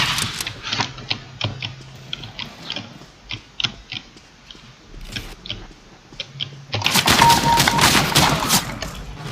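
Shotgun gunfire in the CS GO video game on an office map, with scattered sharp clicks and shots giving way to a loud, sustained blast of fire near the end.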